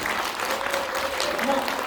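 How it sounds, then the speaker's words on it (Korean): Audience applause at the opening ceremony of the 2022 Seoul International Senior Film Festival, a dense, steady patter of clapping from a crowd with a voice faintly carrying over it. "이분들한테 다 같이 응원의 박수를 한번 보내주시면 좋을 것 같습니다"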